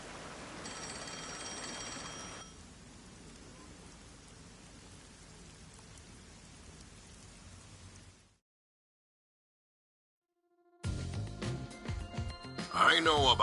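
A telephone ringing in the video game Rain Code: a short electronic ring over a rain ambience, followed by a stretch of quiet and then a burst of louder game sound.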